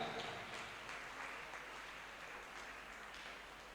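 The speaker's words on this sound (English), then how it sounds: "A big clap for Sreya" An audience claps at a junior school graduation ceremony, a continuous wash of scattered applause that is fairly soft and distant, easing slightly as it goes on.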